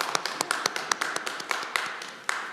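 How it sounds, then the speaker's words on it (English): Small group applauding a student at a city council meeting, crisp individual claps in a fairly steady, moderately quiet patter from a modest audience in a chamber. "Give her a round of applause"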